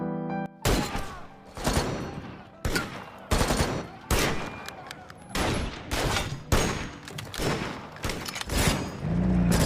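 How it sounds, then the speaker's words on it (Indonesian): Gunfire erupts in a war film battle between Danish and German troops, with repeated bursts of loud shots and automatic fire separated by short pauses, sharp and close. "Akhirnya pasukan Denmark pun mulai menghujaninya dengan peluru."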